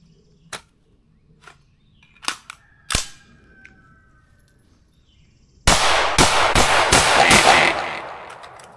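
Rifle fire from an LWRCi IC A5 10.5-inch during speed and accuracy drills: a few spaced single shots, then a rapid string of five or so loud, close cracks.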